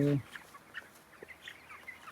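Twenty-three-day-old broiler chickens in a farm shed give scattered short clucks and soft calls, fairly faint, after a brief louder thump at the start.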